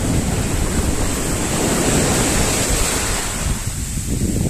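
Sea waves washing onto a shore where the water has receded far out, a steady broadband surf roar with wind buffeting the microphone throughout, continuous and fairly loud with no voices.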